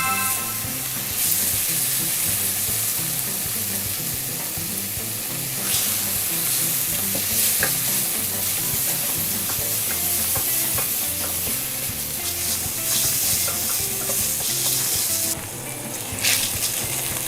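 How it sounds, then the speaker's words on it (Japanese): Minced meat stir-fries in a pan for keema curry, a dense, loud, continuous sizzle with scraping stirs and bursts of hissing steam as the moisture cooks off, no talking. "ミンチが炒まってくると水分が出てくるので、"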